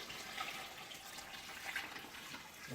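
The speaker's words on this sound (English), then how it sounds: "you take about a half gallon of water and you pour that in" Soft, steady stream of about half a gallon of water pouring and splashing over a turkey in a container, continuous and fairly quiet, with no talking.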